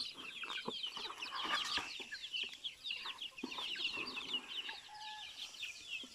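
Several chickens cluck and chatter continuously at moderate distance, with overlapping short calls and no talking.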